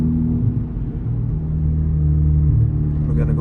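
Honda Civic Type R FL5 engine rumbling loudly from inside the cabin, the revs swelling briefly as a downshift to second is matched, a continuous close drone.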